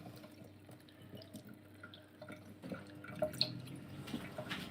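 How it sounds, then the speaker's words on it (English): Cold water running from a household tap, a steady soft flow with dripping and splashing into a sink, fairly quiet and close with no talk. "So let's bring the cold water alive."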